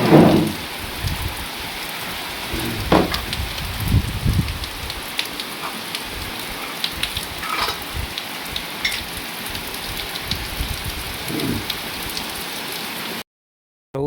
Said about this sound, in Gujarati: અત્યારમાં વરસાદ આવી ગયો